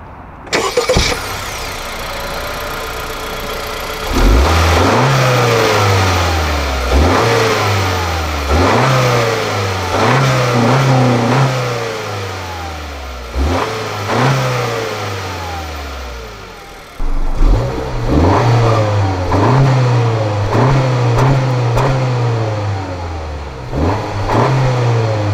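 A 2019 Honda Civic EX engine revs up again and again, each climb in pitch falling back before the next push. The sound is loud and close with a short pause midway, and nobody speaks.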